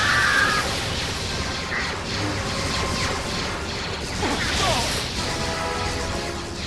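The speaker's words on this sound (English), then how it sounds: "The blasters, enemies, and lightsabers all sound exactly as you'd expect from any Star Wars game these days" Star Wars Jedi Academy battle sounds, with blaster shots and lightsaber hums and clashes crackling in a dense, continuous wash of game noise and effects, steady in level with no voice.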